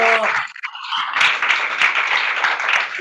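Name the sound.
audience applause after prayer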